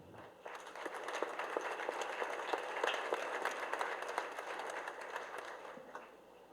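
An audience at a lecture gives warm applause, with many hands clapping in a dense, steady patter that rises quickly, holds for several seconds and then tapers off. The clapping sounds somewhat distant and is heard alone.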